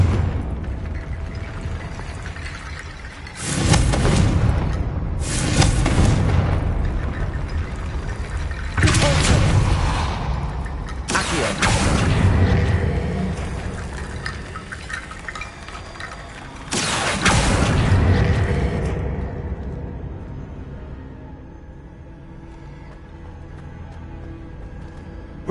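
Confringo blasting spells in Hogwarts Legacy, four or five booming explosions spaced a few seconds apart, each a broad rumbling burst that fades slowly, loud and near with no talking.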